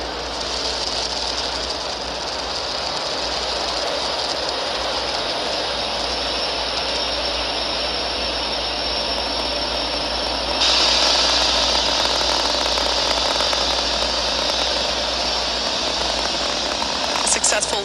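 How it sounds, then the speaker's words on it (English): Falcon 9 rocket lifting off from pad 39A at Kennedy Space Center, heard as a steady, broad roaring rumble that holds for the whole stretch and grows slightly harsher and louder partway through. "Successful liftoff for Falcon 9 from pad 39A telemetry nominal at Kennedy Space Center."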